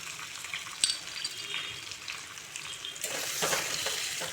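Potatoes fry lightly in mustard oil with a steady, close sizzle and crackle, swelling louder in the last second as the pieces are stirred.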